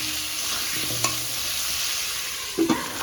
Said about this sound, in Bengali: আলুটা ভাজতে দিয়েছি একটু লবণ দিয়েছি আর হলুদ দিয়ে আলুটা ভেজে নেব